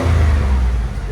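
A 2003 Buick Regal's supercharged 3.8-litre V6 with a high-flow cat and Borla Pro-XS exhaust revs up briefly, giving a loud, close, steady low rumble that swells through about a second.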